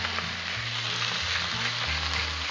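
A ribeye steak sizzles in oil on a Blackstone griddle, a loud, steady hiss that fills the moment with no pauses or voices.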